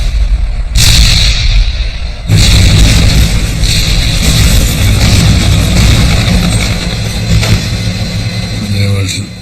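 Heavy artillery fire in a Pacific tank battle, loud booming blasts that open into a dense, continuous roar of explosions, with a narrating voice running underneath.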